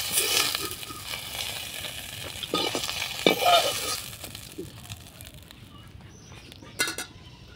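Small fish fry in a pan of hot oil with a crackling sizzle, broken by scraping and clattering stirs that come in bursts and gradually ease toward a quieter hiss.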